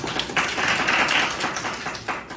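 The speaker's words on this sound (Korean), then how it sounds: "박수 한번 부탁드립니다." Audience clapping in a classroom teaching-demonstration setting, a dense burst of applause swelling and holding for about two seconds, fairly close and steady, then tapering off.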